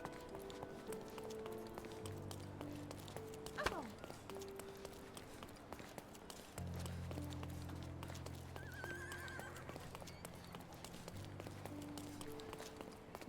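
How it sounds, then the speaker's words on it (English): Video game horse hooves clip-clop steadily with a carriage rolling along, amid game-style ambient music and a brief whinny; the hoofbeats continue throughout at moderate volume. "It's horse and carriage everywhere."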